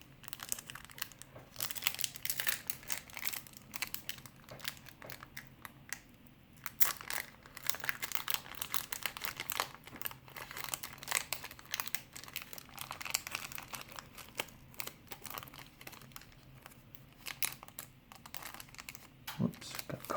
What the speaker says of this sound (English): I'll probably open one more pack